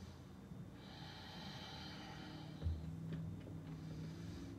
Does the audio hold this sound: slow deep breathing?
yes